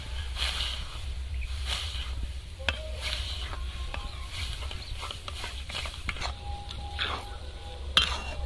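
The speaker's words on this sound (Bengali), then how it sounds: "সুজিগুলো নাড়তে থাকবো যাতে না গলা পেকে যায়।" Semolina being stirred into water in a pot for katari bhog sweets, a steady scraping and swishing with faint clinks of utensil against metal, close and continuous.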